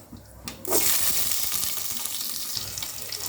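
Chopped onion drops into hot oil already crackling with mustard seeds and cumin for a brinjal kuzhambu tempering; a close, steady hiss and sizzle starts abruptly and carries on loudly, with no one talking.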